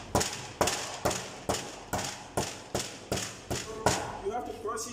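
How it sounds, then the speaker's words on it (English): A hammer crushes an aggregate sample on a steel cube, striking about ten times in a steady rhythm of sharp, close thuds, each followed by a brief rattle. "we crush it with the hammer like this"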